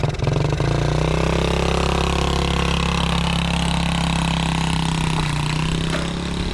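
A mini quad's small engine idles steadily up close, running a little rich with a faint uneven sputter from the carburetor, holding a low rumbling drone throughout.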